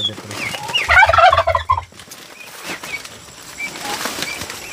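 Pet turkeys raised on a Filipino farm let out a loud burst of rapid gobbling near the start, followed by quieter scattered calls and rustling.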